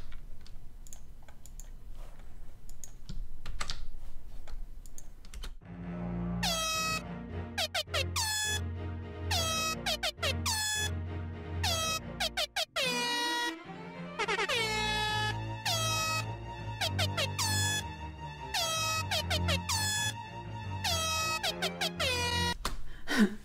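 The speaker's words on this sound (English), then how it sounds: "I made a little air horn." A brief quiet lead-in, then a loud, blaring electronic air horn blasting in repeated stuttering bursts and stabs, continuing for many seconds.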